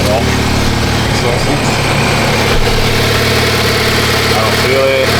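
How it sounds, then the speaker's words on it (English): Honda Accord 2.0 engine idling just after a cold start, fitted with a PRL catless downpipe: a loud, steady mid-pitched drone with constant vibration, close by. "That was a cold start."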